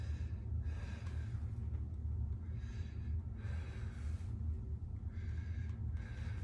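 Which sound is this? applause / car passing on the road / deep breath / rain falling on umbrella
deep breath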